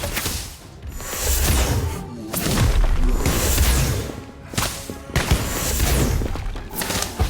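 Spell combat in the Harry Potter: Magic Awakened game bursts out as repeated booming blasts and crashing impacts in waves, loud and dense, with swelling hits between short dips.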